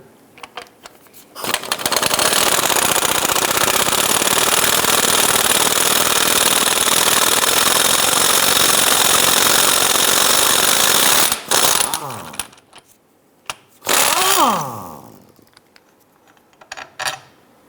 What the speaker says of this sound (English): Let's go ahead and loosen and remove this 18mm bolt right here.